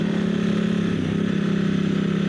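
A motorcycle engine running steadily with a close, even, throbbing drone and a slight shift in pitch midway as the throttle opens.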